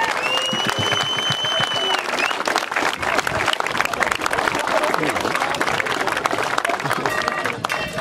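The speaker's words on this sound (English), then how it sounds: "we give the West Indies, who have been fantastic throughout the tournament, a round of applause for their participation" A crowd at the final of the World in One City football tournament, Nigeria against West Indies, gives the West Indies team a round of applause: dense, loud, sustained clapping with cheers and voices in the mix.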